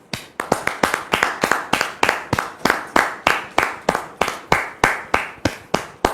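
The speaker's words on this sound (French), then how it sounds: "Merci donc de recevoir Dame Martine sous vos applaudissements, s'il vous plaît." A TV talk-show studio audience claps in unison, loud sharp beats in a fast regular rhythm, roughly three per second, with no other sound over them.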